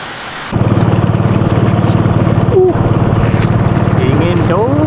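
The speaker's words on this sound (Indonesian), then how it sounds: "Tiba-tiba hujan." Steady, dense rain hissing over a constant low engine drone, with voices talking briefly partway through.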